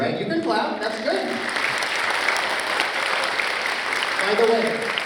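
An audience at a children's concert claps steadily after the orchestra finishes, a dense wash of applause from many hands, with a voice briefly heard at the start.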